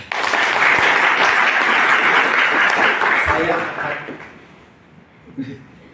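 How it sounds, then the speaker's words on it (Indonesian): An audience of honorary teachers at a gathering in Bogor applauding, dense loud clapping for about four seconds that tapers off into quiet room noise and a faint voice. "Tepuk tangan."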